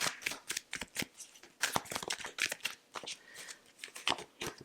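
Tarot cards are shuffled close up in rapid riffling bursts, a dense run of crisp papery flicks and taps with brief pauses between handfuls, quiet and without voices.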